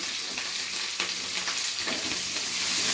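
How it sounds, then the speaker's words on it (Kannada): Onions frying in a pan with green chillies and curry leaves for a spiced okra dish, giving a dense, steady, close sizzle with faint stirring scrapes and no talk. "ಇದನ್ನು ಚೆನ್ನಾಗಿ ಕೆಂಪಾಗೋವರೆಗೂ ಫ್ರೈ ಮಾಡ್ಕೊತಾ ಇದ್ದೀನಿ"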